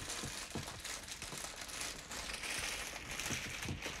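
Wrapping paper on a gift crinkles and crackles steadily up close as it is torn open, with soft rustling bursts throughout and no voices.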